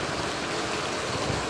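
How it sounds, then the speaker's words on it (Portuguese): Heavy rain pours steadily in the Sertão of Pernambuco, Brazil, a dense, even hiss of falling water with no break, close and moderately loud. "muita chuva aqui, ó, gente."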